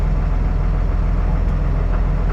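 A repaired tractor engine idles steadily close by, a low, even rumble that holds without a break.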